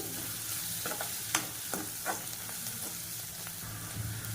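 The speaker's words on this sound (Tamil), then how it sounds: "இப்போ வெங்காயம் நல்லா வதங்கிடுச்சு." Onions, curry leaves and green chillies sautéing in hot oil for a prawn gravy, a steady sizzle broken by several sharp stirring scrapes of a spoon against the pan.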